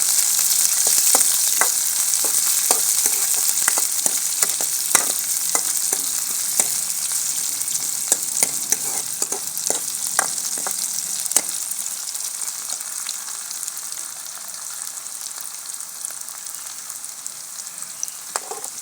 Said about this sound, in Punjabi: ਹੁਣ ਹਰੀ ਮਿਰਚ ਗੰਢਾ ਪਾਵਾਂਗੇ ਮੋਟਾ ਮੋਟਾ ਕੀਰੇ ਹੋਇਆ ਗੰਢਾ